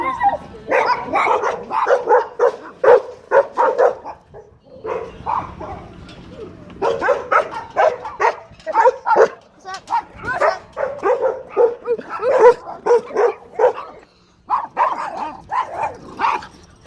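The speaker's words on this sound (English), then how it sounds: "look at that little puppy" A puppy barks and yips repeatedly in rapid, high-pitched bursts for a long stretch, close up, with short breaks and some voices mixed in.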